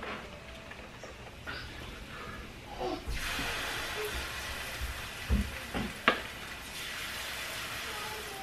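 Jamaican banana fritter batter sizzling as spoonfuls are dropped one by one into hot oil in a pan, a steady soft frying hiss that swells in bursts with a few spoon clinks.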